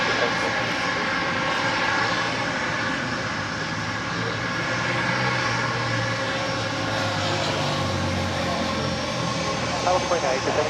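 A jet airliner takes off from runway 25 right at LAX, its engines giving a steady, loud, broadband roar throughout, with a voice talking over it.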